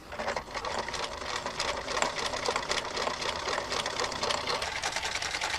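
A cam-driven sewing machine sews fancy stitches, combining sideways needle swings with variable cloth feed, in a continuous, even, rapid needle clatter heard close up and on its own throughout.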